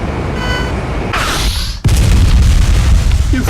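A guided missile weapon from pre-alpha Unreal Tournament detonates in a loud, close boom after a short whooshing flight, and a rumbling tail follows the blast.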